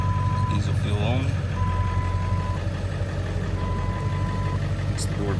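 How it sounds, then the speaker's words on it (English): A camper truck's door-open warning chimes in steady, evenly spaced beeps over the low rumble of the idling diesel engine, heard up close. "It's the door beeping."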